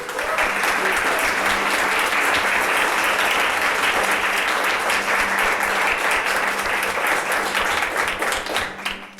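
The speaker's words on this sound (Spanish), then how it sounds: "¿qué te parece si le damos un fuerte aplauso al Señor?" Sustained, loud applause from a church congregation praising the Lord during a Spanish-language Christmas sermon, a dense steady clatter of many hands filling the whole stretch before tapering slightly at the end.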